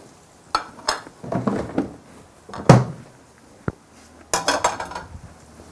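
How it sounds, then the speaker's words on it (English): A spoon clanks and scrapes in a pot as okra is stirred into orange-flesh sweet potato masala, with a few close, irregular metallic knocks and short scraping strokes separated by quiet gaps. "Just stir it into the masala mixture so that it becomes part of the dish"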